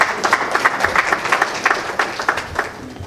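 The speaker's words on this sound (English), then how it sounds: "Let's give him a round of applause." An audience at a banquet-style community gathering claps in a lively, continuous round of applause, many hands beating fast and close, no voices over it.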